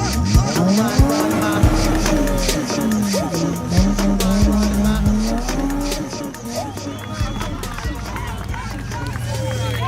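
A car called a Gusheshe performs spinning tricks on a Johannesburg street, its engine roaring and wavering steadily while tires squeal, loud and close throughout, with crowd noise and voices underneath.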